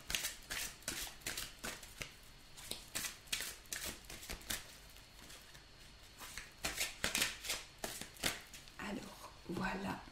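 A large deck of oracle cards being shuffled by hand, with repeated riffling and flapping bursts at close range under intermittent quiet talking.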